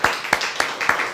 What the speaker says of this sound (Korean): 우리 장승혁 목사님 나오실 때 환영의 박수 올리도록 하겠습니다